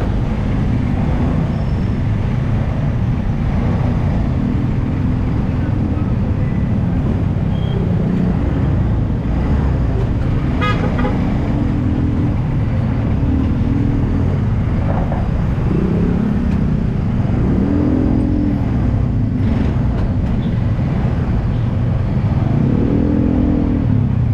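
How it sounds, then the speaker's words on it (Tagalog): Heavy road traffic in New Zealand makes a continuous, dense rumble of engines and tyres for the whole stretch, steady and fairly loud, with no voices. "Grabe yung traffic."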